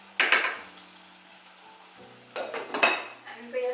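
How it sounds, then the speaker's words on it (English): A spoon scrapes and knocks around a pot of rice with butter and salt, two short bursts of metal-on-pot clatter separated by a quiet gap, close up with a faint background hum. "Give the pot a little stir."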